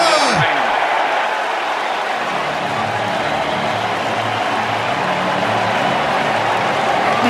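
Large baseball stadium crowd roars and cheers in a broad, sustained wash of noise, loud and steady throughout, with a commentator's voice briefly heard at the start.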